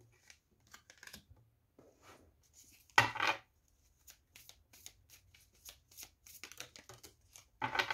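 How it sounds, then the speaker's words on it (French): Tarot cards are shuffled and handled close by in a quiet room, with scattered soft riffles and slides and one louder burst of shuffling partway through. "On prend 3 cartes du tarot."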